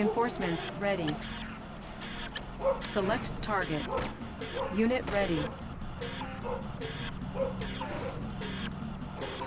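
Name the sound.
dogs barking in the video game Red Alert 2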